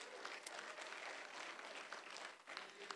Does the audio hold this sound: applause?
yes